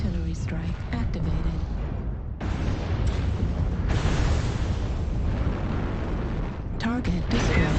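Artillery strike explosions in MechWarrior Online sound as dense, continuous rumbling booms with scattered sharp bursts, loud and sustained throughout, with game effects layered over them.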